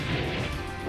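A single short, heavy crash-like impact fills a brief moment as a glass hammer attack lands in the fighting game Virtua Fighter 5, dense and loud with no talk.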